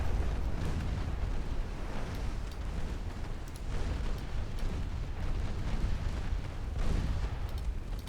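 Torpedo hits in the Silent Hunter DIP submarine game, during a US campaign, rumble as a continuous heavy, low, booming roar with repeated deep bursts that swell and fade over several seconds, loud and without speech.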